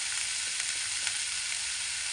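Food sizzles and fries steadily in a pan just after turmeric goes in, a close, even hiss with faint crackles and no talking.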